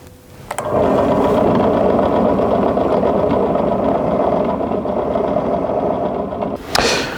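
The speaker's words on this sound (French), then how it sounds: "Donc là on a terminé de percer le trou de l'alce et de la palanquille" A drill steadily boring holes through the handle of a handmade folding knife with a forged iron blade, one continuous loud whirring run of about six seconds, ending with a brief clatter.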